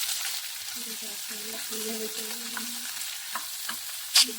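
Onions fry in oil with cumin and curry leaves, giving a steady soft sizzle with a few light stirring scrapes and a sharp clink near the end; a faint low hum runs through the middle.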